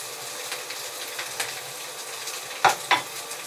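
Carrots go into a lightly oiled frying pan with a soft, steady sizzle and stirring, then two sharp metallic clinks of utensil against pan near the end.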